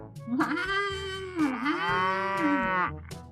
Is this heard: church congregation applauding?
no